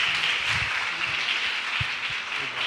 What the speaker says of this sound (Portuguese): Aplaude o Senhor pela vida do pastor Robson